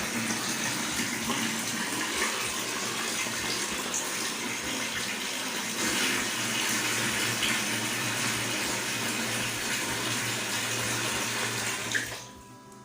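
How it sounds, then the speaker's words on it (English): Water pours steadily in a continuous rushing stream for several seconds while rice water is prepared, then abruptly stops near the end. "I'll now put the water."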